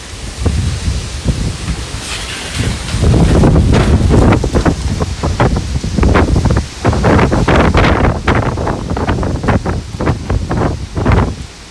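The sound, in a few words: strong wind blowing on a farm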